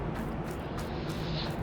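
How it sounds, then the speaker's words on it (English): A corn crib drying corn on a Michigan dairy farm in Farming Simulator 22 gives off a steady, dense mechanical whir with a broad airy hiss, constant and unvarying throughout. "The noise you hear is this corn crib."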